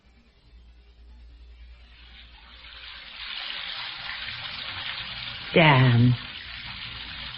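Water runs from a tap, a soft hiss that builds steadily in strength over several seconds, broken by a brief spoken word and a short clatter near the end.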